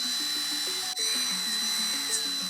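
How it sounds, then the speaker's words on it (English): A Craftsman cordless power drill whirs steadily with a high, stepping whine that dips for an instant, then carries on at a constant level, close and alone. "That's the drill."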